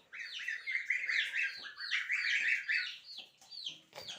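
Chicks chirp continuously in a dense, high-pitched cluster of rapid peeps, fairly close and steady, with a brief clatter near the end; no one speaks.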